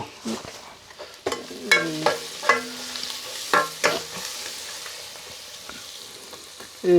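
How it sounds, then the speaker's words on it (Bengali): Beef liver with garam masala fries in a pan while a spoon stirs it, making loud ringing metallic scrapes and clinks in an uneven rhythm over a soft sizzle that trails off quieter toward the end. "এবারে একটু চামিচ দিয়া লাইরা একটু মিক্স করে নিলাম"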